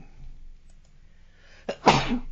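A single sharp sneeze close to the microphone, preceded by a quick inhale, after a moment of quiet murmuring.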